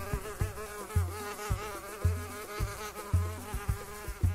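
A hoverfly buzzes close by with a steady, high whining hum, broken by regular soft low thumps about every half second.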